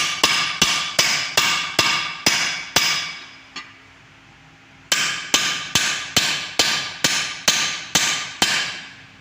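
A hammer strikes a part of a Toyota Kijang transmission during disassembly. The blows are loud, sharp and metallic, in two steady runs of about seven each with a short pause between them, and there is no talk.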